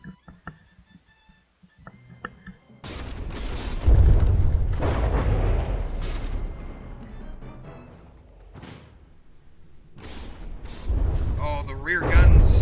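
Warship guns fire in a From the Depths naval battle, heavy booms and blasts rumbling one after another with deep low-end weight, after a quieter stretch with light clicks at the start.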